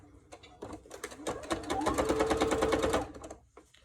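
Sewing machine stitching ribbon trim onto fabric, a short burst of rapid, even mechanical clatter that speeds up, holds for about two seconds and then slows to a stop, close and clear.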